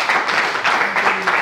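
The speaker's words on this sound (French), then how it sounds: "Rolly Ransard, Samouanza Mbiela, prière de l'applaudir très fort." Applause rings out for jury member Rolly Ransard at a school face-off competition show, a steady, dense wash of many hands clapping close by, with no talk over it.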